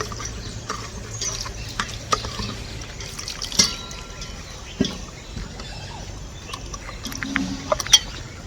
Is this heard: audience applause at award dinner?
no